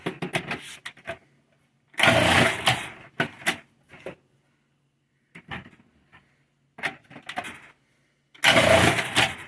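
A Cuisinart 14-cup food processor slicing potatoes, heard as loud bursts of motor whir and chopping in several separate pulses with short silent gaps between them.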